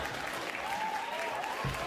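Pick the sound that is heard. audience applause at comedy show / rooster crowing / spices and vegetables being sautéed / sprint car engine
audience applause at comedy show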